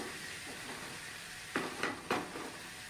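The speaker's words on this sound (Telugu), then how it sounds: "ఇవన్నీ చక్కగా ఫ్రై అయిపోయిన తర్వాత చికెన్ అనేది యాడ్ చేసేసుకోవాలి" Chicken wings tossed into a hot frying pan of spices and stirred, a faint, steady sizzle broken by three short scraping, clattering bursts near the end.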